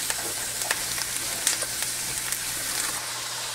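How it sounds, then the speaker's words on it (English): Mushrooms and vegetables sizzle in a frying pan for quail fajitas, a steady crackling hiss punctuated by small pops and the occasional clink of stirring, close and moderately loud. "we got the mushrooms cooking down just a little bit"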